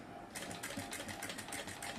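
A sewing machine runs in a quick, even burst of stitching as piping is sewn onto a dress, a rapid mechanical rattle lasting under two seconds, fairly close and on its own.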